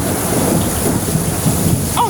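An outdoor thunderstorm brings steady heavy rain hissing on surfaces, with low thunder rumbling underneath throughout, close and loud with no talking.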